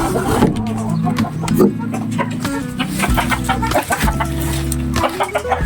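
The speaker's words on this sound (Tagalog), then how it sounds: "Dami niyang manok dito." Chickens clucking close by at a house garden, with repeated short clucks and calls over a busy background; a little talk and other noise mixed in.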